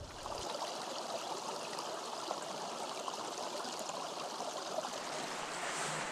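A mountain stream in the Vercors flows over rocks, a soft, constant rush and trickle of water heard alone and fairly quietly throughout.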